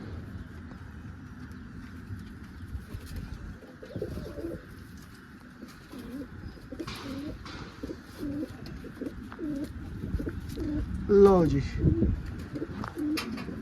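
Pigeons coo softly and repeatedly close by, while someone talks briefly and a short bird trill rises near the end.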